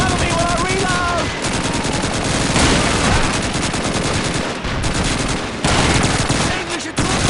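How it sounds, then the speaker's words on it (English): MG-42 machine gun fire in the Call of Duty 2 video game, loud rapid sustained bursts with brief gaps between them, dense and close, with shouted voices briefly audible early on. "It's an MT-42 to the east!"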